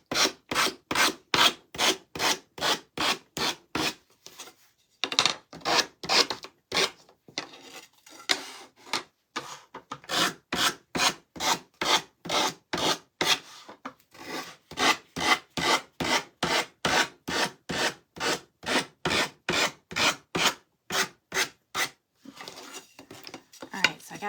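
Sandpaper rubbed back and forth over a piece of wood during a craft project, a close rhythmic rasping scrape repeated in steady strokes with a couple of brief pauses, and faint talking in places.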